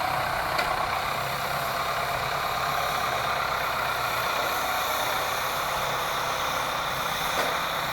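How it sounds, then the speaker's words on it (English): An old Ford Super 4 runs at a steam rally, its engine holding a steady, even idle nearby for several seconds without any voices. "Nice old Ford Super 4."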